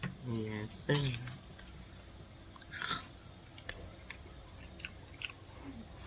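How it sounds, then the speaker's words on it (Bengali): Someone eats panta bhat, soaked rice, with chicken and lemon, making soft wet chewing and smacking sounds close to the mic while a person talks over it. "সত্যি পান্তা ভাত খায় কিনা একেবারে সত্য কথা পান্তা ভাত খাবে প্রচুর পান্তা ভাত খাবে"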